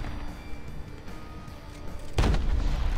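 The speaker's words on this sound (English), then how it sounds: "they are using artillery fire here" Artillery fire and bomb blasts in the War Thunder Mobile tank game: a low rumbling backdrop, then a single loud, close, heavy boom that keeps rolling until the end.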